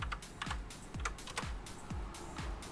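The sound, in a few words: typing on a computer keyboard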